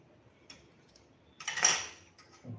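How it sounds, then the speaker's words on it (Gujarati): A spoon mixing turmeric powder into a mixture in a bowl, with a few faint clinks and one brief louder scrape, fairly quiet and close. "હવે એને આપણે એકદમ સરસ રીતે મિક્સ કરી લેશું."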